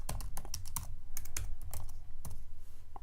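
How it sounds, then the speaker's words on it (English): Keystrokes tapping on a computer keyboard while an account name is entered during an online setup, a quick uneven run of close, crisp clicks with brief pauses between bursts. "I'll type in the new account that we created"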